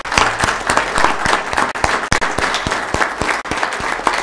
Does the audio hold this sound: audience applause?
yes